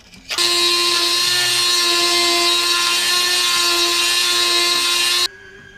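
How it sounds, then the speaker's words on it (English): A Dremel rotary tool grinding a part for a 1/14 scale lowboy trailer gives a close, steady high-pitched whine for about five seconds, starting and stopping abruptly, with no talking. "So to finish it off, we'll need la Dremel."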